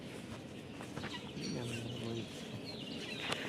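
Several birds with a fowl-like clucking call sound at middle distance, a few short calls and one longer run of notes, over quiet outdoor background.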